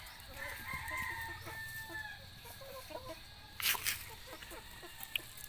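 Brahma chickens cluck steadily nearby while a rooster crows in the background and a louder burst of squawking breaks out midway, with no talking.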